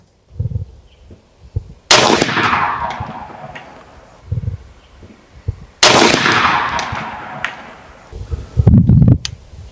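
Two loud, sharp blasts from a supersonic AEA Megalodon .58 caliber air rifle, each with a long echoing tail, followed by quieter thumps and handling noise.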